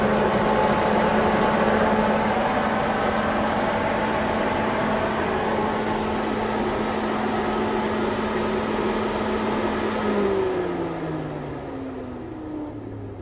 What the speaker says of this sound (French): Et là, comme on peut entendre, le ventilateur moteur fonctionne nickel.